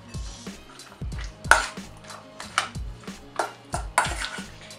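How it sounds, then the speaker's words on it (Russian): A spoon stirs and scrapes through a simple salad dressed with sour cream in a bowl, giving a series of irregular clinks and knocks, some sharper, fairly close and without talk. "Перемешиваем хорошенько."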